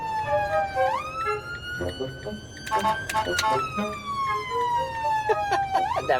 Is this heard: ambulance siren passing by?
yes